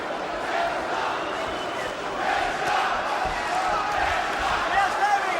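Crowd noise from a Welsh audience at a boxing match, a steady broad roar that holds throughout with a few swells, and no voice standing out above it.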